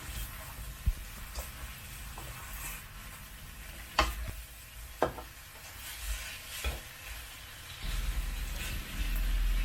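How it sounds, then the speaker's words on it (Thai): Tofu stir-fried with mushrooms and tomatoes in a pan: a steady low sizzle with scraping stirs and a few sharp utensil knocks against the pan, close and moderately loud, with no talking. "ใส่มะเขือเทศค่ะจากนั้นก็ผัดทุกอย่างให้เข้ากันค่ะ"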